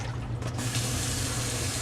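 Hot water runs steadily from a tap into a container for rinsing freshly dyed wool, a continuous close gushing splash that thickens after the first half second.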